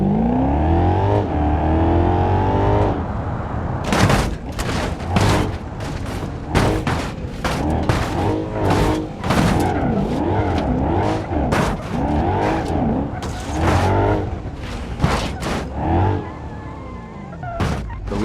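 A Land Rover SUV with air suspension drives over a bumpy suspension test road, its engine revving and rising in pitch while repeated loud thumps and bangs from the wheels hitting obstacles break in at irregular intervals.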